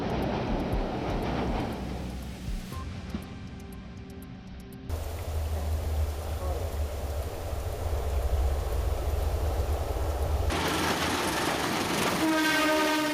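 A train on the Argo Gede line crosses a nearly 200-foot-high steel bridge over a deep valley, making a sustained rolling rumble that shifts in tone, with horn-like tonal blasts toward the end.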